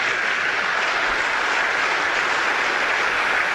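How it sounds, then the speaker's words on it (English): Lecture audience at a church history talk giving the speaker a round of applause: an even, continuous hiss of many hands clapping at moderate volume, blended into a smooth wash with no single claps standing out. "let's give Steve a big hand of applause"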